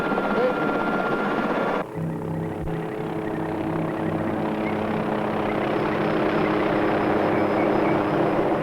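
Helicopter in a film drama about the St. Helens eruption, a steady rotor and engine drone with a shift in pitch early on, continuing loud and close, with speech over it.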